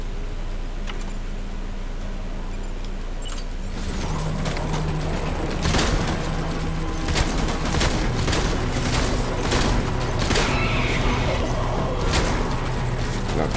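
Gunfire during a chiral density event in the video game Death Stranding: a low engine-like rumble under a run of sharp, loud shots and bursts in the second half, heavier and denser toward the end.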